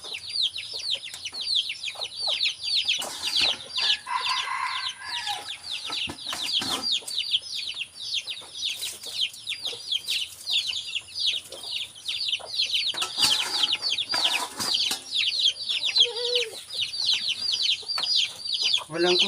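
A labuyo wild junglefowl rooster clucks repeatedly, with close, busy chicken calls running through the whole stretch alongside other bird sounds and brief rustling.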